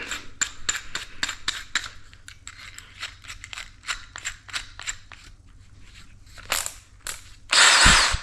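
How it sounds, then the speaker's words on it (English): Rapid clicking bursts from a power drill, close and sharp, ending in a loud whirring drill burst while drilling holes for a Toyota Tacoma dash mount, with no talking. "And now I will drill these holes."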